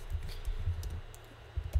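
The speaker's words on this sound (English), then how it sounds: "if I type in Jackie, takes me there." Light, irregular tapping on a computer keyboard while working in Kindle Create, soft close keystrokes in an uneven rhythm with no speech over them.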